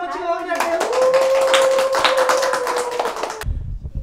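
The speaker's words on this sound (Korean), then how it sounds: "박수 한번 치고 가볼게요." A group of children and adults claps together at an outdoor quiz event on fine dust in Suwon, with a burst of hand claps over cheering and a sustained high-pitched voice, ending abruptly.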